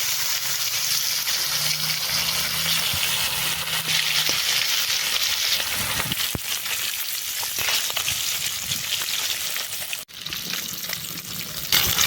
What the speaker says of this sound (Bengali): এবার এর মধ্যে তেল দিয়ে মাছগুলো ভেজে নেব।